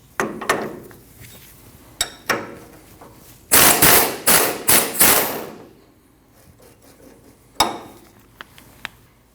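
A rubber mallet taps a bolt out of a front sway bar link on a 2012-2021 Nissan NV2500 van, a string of sharp close knocks, a few scattered early, then a rapid cluster of hits and one last strike, with no talking.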